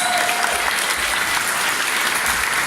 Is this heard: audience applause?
yes